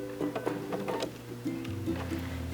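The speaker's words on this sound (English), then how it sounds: "I'm going to sew across the top first." A sewing machine stitches across the top of tote bag straps, a steady mechanical hum with a shifting pitch and rapid needle ticking running continuously up close.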